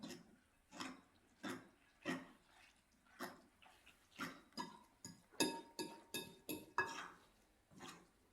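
A spoon scrapes and clinks around a bowl as batter for Korean potato pancakes is stirred, giving steady rhythmic strokes about twice a second, quiet and close, quickening into sharper clinks near the middle.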